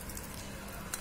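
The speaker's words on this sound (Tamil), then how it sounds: "நண்டு நல்லா கொதிச்சுட்ருக்கு" Crab pepper masala bubbles and sizzles in a pan, a steady close frying crackle that lasts about a second with one slightly sharper pop near the end.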